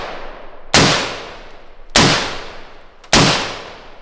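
Three suppressed hunting rifle shots fired slowly, each a sharp loud crack with a short decaying tail, spaced about a second apart, with no talking.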